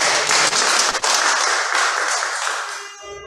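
An oratory class audience gives a strong round of applause, loud and dense from the start, then gradually thinning and fading out toward the end.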